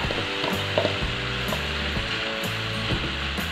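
Shrimp fry in a cooked Padang-style spice paste, a steady close sizzle over a rhythmic mechanical hum with periodic clicking, fairly loud and with no talking.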